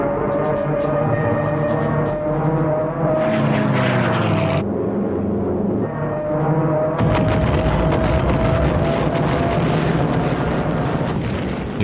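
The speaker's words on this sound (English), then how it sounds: "As the Japanese aircraft dived into the attack" Japanese World War II warplanes roar overhead as they dive into an attack, a loud sustained engine drone with shifting pitch and a rising, whining surge, punctuated by a brief break before the heavy rumble returns, no voices.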